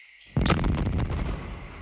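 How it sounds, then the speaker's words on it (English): A Dalek's metal casing blows apart in a science-fiction audio drama. A sudden loud blast breaks out of silence, then a dense rumbling roar with crackling debris slowly fades. "The explosion throws me backward."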